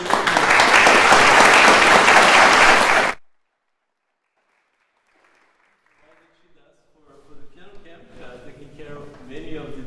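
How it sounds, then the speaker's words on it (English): An audience at a piano camp opening recital breaks into a loud, dense round of applause lasting about three seconds and then cuts off abruptly, followed by near silence and then faint talking. "So let's give her a round of applause."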